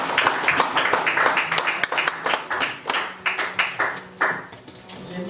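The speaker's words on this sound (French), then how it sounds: "Acclamons pour la parole de Dieu." A church congregation at a French-language Sunday service claps in rhythm, a steady and fairly loud series of handclaps that comes in waves of beats, with an organ-like tone faintly underneath.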